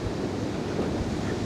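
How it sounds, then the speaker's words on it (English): Steady wind blowing across a river while fishing, a continuous rushing roar with water lapping beneath it and no distinct events. "the wind's picked up"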